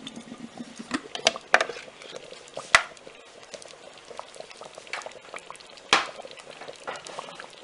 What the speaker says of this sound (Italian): Aspettiamo un attimo perché sta ancora bollendo